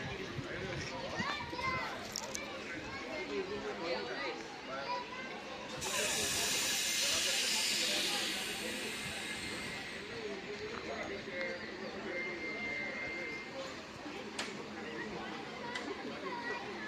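Mela special train from Rajkot to Veraval standing at a station, giving off a loud steady hiss of escaping air for a few seconds amid crowd chatter and someone talking nearby.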